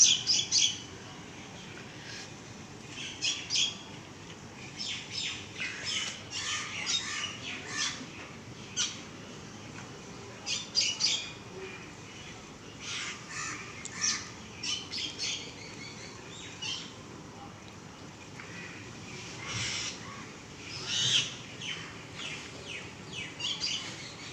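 Myna birds sing outdoors among trees, a busy series of chirps, whistles and squawks in irregular bursts, moderately near, with no talking.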